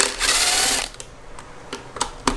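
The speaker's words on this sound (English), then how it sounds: "the first thing I'm gonna do is take out these 2 10mm bolts for the fuel line" A ratchet backs out 10mm fuel line bolts on a cammed Infiniti G35. A loud, sustained burst of clicking opens, followed by a few separate sharp clicks and ticks nearby; no talking.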